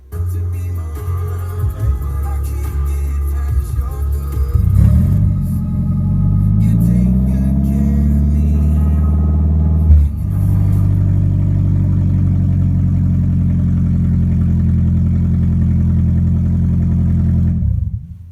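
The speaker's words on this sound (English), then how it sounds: "let me show you what the car sounds like without a catalytic converter in it" A Toyota Prius engine with no catalytic converter idles with a loud, rough, droning rumble, revving up around the middle and holding a steady heavy growl, with no voices over it.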